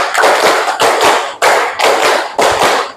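A classroom of students clapping a patterned focus clap, three loud unison bursts of five quick claps each, with brief gaps between the groups.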